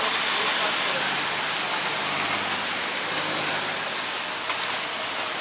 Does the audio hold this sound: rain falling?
yes